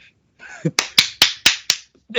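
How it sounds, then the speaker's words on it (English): A short burst of five sharp, evenly spaced hand claps, loud and close, with faint voice sounds just before and after. "You should clap down"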